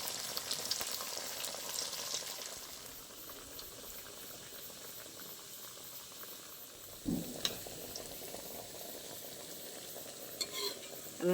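Crispy tiffin snacks frying in hot oil, a continuous bubbling sizzle at moderate level with occasional clinks from a utensil against the pan.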